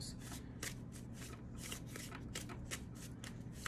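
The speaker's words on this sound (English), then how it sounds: "And I shuffled these." Playing cards being riffle-shuffled and bridged repeatedly, a dense run of crisp flutters and slaps up close, with no talking.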